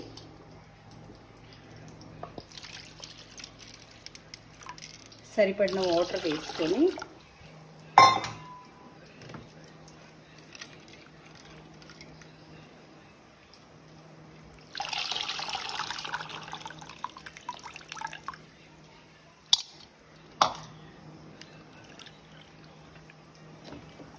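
Water runs and splashes into a metal pot in two bursts while making Andhra-style pappu charu, with clinks of utensils and dishes between them in a quiet kitchen.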